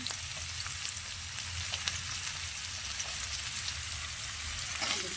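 Onions dropped into hot oil and frying for mutton chops, a dense, even crackling sizzle close by that holds steady, with faint scattered ticks of spatter.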